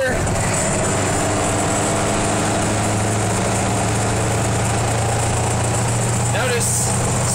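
Vehicle engine runs steadily at a constant loud drone after being shifted into fourth gear, with a low hum dominating throughout.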